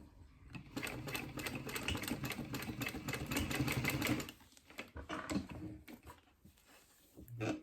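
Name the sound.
sewing machine stitching a vinyl watch strap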